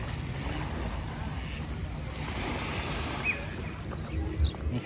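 A river stream near Lugano, Switzerland, rushes with a steady, close broadband flow that holds an even level throughout, with no voices.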